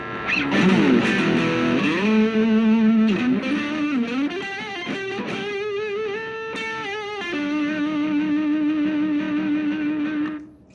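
An electric guitar, a Fender-style SSS guitar on its middle pickup, plays sustained notes and slides with a warm, slightly overdriven tone, ringing out loudly and alone before cutting off at the end.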